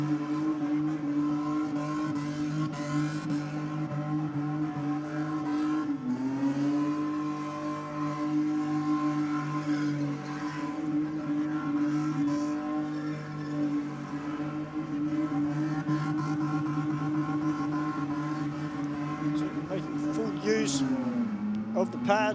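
Car doing a burnout at a competition pad, the engine held high with sustained droning revs that dip briefly when it drops a gear, then rise again, loud and continuous under a commentator talking.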